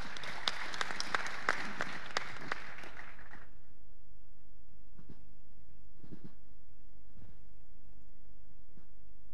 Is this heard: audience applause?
yes